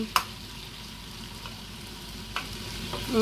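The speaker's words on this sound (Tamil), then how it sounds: "நல்லா ப்ரௌன் கலரில் கிறிஸ்பியாக முருகலாக பொரிக்கணும்" Oil sizzles steadily as chicken pieces fry crisp and brown in a pan, with a couple of brief clinks of a utensil against the pan.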